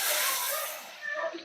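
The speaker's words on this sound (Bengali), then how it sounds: "এখন আমি কড়াইতে পানি দিয়ে দেব" Water poured into a hot wok on a stove bursts into a loud, close steam hiss that fades over about a second, followed by a softer bubbling sizzle.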